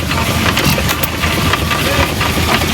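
A hit-and-miss engine, skipping some firing strokes, chugs loudly up close in an uneven rhythm with sharp intermittent bangs over a steady mechanical rumble.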